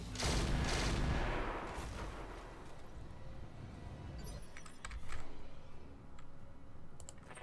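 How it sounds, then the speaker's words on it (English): Mech weapons fire in the Roguetech video game, an opening heavy blast followed by a rumbling volley of shots and scattered sharp cracks that trail off over several seconds. "Let's fire on this guy."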